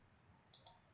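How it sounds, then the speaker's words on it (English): Computer mouse double click, two quick faint clicks in close succession, very brief and quiet. "we will double click on that one"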